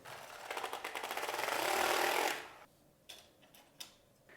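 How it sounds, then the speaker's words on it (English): A Passap Duomatic 80 knitting machine carriage pushed across one row, giving a loud, fast rhythmic clatter of needles that swells and then stops. A few separate clicks and knocks follow in near silence. "And now I knit one row."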